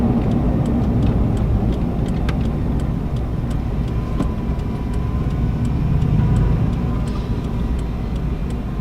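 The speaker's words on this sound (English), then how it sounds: "Get up, and then medium to hard deacceleration down." Inside a 1997 Chevy K1500 Suburban on a road during brake break-in, a continuous engine and road drone runs steadily from speed down through medium-to-hard deceleration, with faint ticking throughout.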